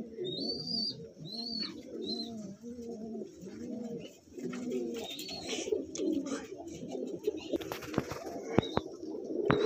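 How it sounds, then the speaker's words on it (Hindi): Malwai Punjabi pigeons coo close by in a dense, continuous run of throaty rolling phrases, with a few higher chirps and sharp clicks near the end. "तो भाई ये कबूतर हैं"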